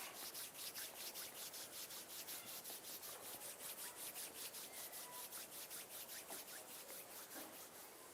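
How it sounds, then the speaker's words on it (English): Palms of the hands rubbing gently together at chest level, a soft steady swishing friction repeating in an even back-and-forth rhythm, close and quiet with no talking. "bring the palms of your hands together at chest level and rub them gently against each other"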